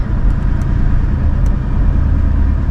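A car drives forward in Innes National Park with a steady, close engine hum and road rumble, no talking, just the low continuous drone of the moving vehicle.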